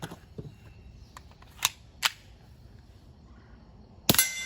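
A suppressed Keltec P17 .22 pistol fires CCI Quiet 22 semi-auto ammunition, producing a few soft, sharp pops spread across a quiet stretch, the last one followed by a brief rattle.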